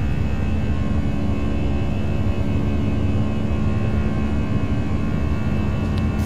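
Airbus A320 jet engines spooled to takeoff power in X-Plane 11, a steady, dense roar with a constant whine held evenly throughout, no voices over it.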